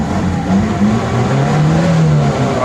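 A car engine revving close by in a steady, loud drone, with its pitch rising and falling slightly over a couple of seconds and no talk over it.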